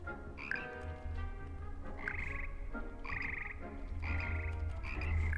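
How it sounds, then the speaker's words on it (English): Frogs croak in a Hogwarts-themed video game, a steady chorus of deep, throaty croaks with rhythmic repeated calls over a low ambient hum, alone and fairly close. "I love those frogs."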